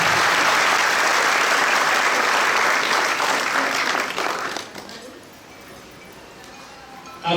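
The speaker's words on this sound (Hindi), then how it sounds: "जोर से तालियां बजाओ" An audience claps loudly and steadily at a spiritual speech gathering, with dense applause that fades sharply partway through to a quieter tail.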